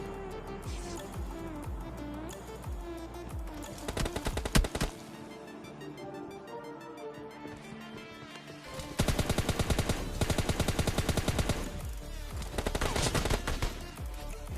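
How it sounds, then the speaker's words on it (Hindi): Bursts of automatic M16 fire in a battle royale video game, a long rapid volley followed by a pause, then more sustained close and loud bursts over a layer of game background sounds. "तभी हमें सामने से M16 चलने की आवाज़ आती है।"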